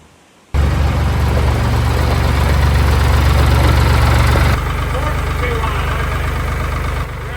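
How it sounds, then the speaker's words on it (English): A heavy diesel tractor engine starts up and idles at a steady low rumble close by, settling slightly quieter partway through. "I'll get the tractor in here."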